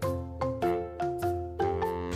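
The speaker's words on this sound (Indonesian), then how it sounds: "lonceng berbunyi" A series of bright, ringing bell tones from the Pokemon Sun and Moon anime, struck about five times in an even rhythm with sustained harmonic overtones, clear and alone.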